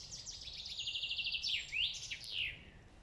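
A small bird in a forest gives quick runs of high, sharp chirps and sweeping whistled notes, fairly faint against quiet woodland background.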